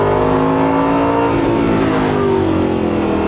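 A loud Aston Martin Vantage S sports car engine revs and pulls hard, its pitch rising and shifting steadily, close and continuous with no talking.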